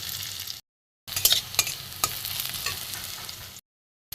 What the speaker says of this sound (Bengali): পেঁয়াজটা একটু ভালো করে ভেজে নেবো